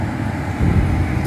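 A newly installed blower motor in a 2002 Dodge Dakota runs on low with a steady, even whoosh and hum, close and continuous for a brief moment.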